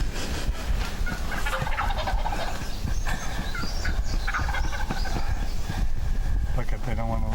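A big wild turkey tom gobbles in the field during a spring turkey hunt, repeated throaty gobbling bursts close by, mixed with wing flapping and hushed hunter talk.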